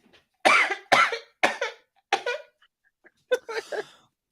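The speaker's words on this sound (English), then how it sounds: "Hold on, I'm going to cough." A series of five or six harsh coughs close to the microphone, in a quick irregular burst, then a pause and one final cluster.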